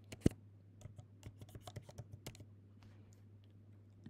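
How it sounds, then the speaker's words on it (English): Quick keystrokes on a computer keyboard, starting with one sharp tap and then a burst of close, light clicks that fade out, over a steady low hum. "I'm going to type in simple answers"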